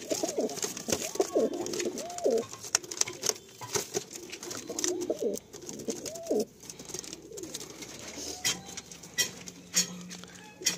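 Flock of high-flying pigeons kept in a loft cooing repeatedly in soft, throaty rolling calls, several birds overlapping near and far, with scattered wing flutters and light pattering movement throughout.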